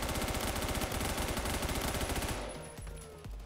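Fast automatic P90 fire in Roblox Phantom Forces, a long unbroken rattling burst of rapid shots that stops abruptly, followed by quieter scattered sounds of a firefight.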